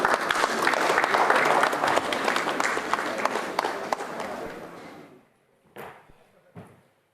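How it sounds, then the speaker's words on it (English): An audience at a business meeting claps in a dense, loud burst that stops abruptly after about five seconds, followed by a couple of short thumps and rustles in near quiet. "Let's welcome him with a round of applause."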